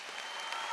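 An audience at a university doctoral hooding ceremony applauds new doctoral graduates. The clapping is a steady, dense wash that runs through a very short moment.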